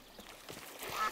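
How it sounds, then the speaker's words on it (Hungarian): A cartoon goose honks in a Hungarian-dubbed episode of Bing, with a few short nasal calls in quick succession that grow louder toward the end. "Bing, ez nem kacsa, hanem lúd."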